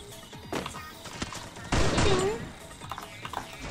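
Several bursts of video game gunfire, one heavy loud volley in the middle, with a faint voice underneath and background game noise.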